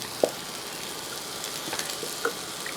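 Green chilies, tomato and masala frying in a pan for a fish dish give a soft, steady sizzle, with a couple of faint stirring clicks and light utensil taps.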